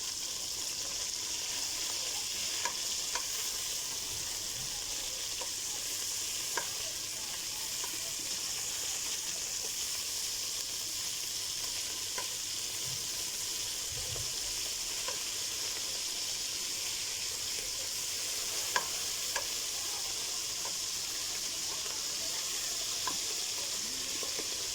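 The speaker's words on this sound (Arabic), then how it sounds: "وبنقلب اللحمة وبنشوحها كويس جدا" Ground meat being stirred and sautéed in a pan for stuffed cabbage, giving a steady, even sizzle with faint scraping clicks throughout, no voices.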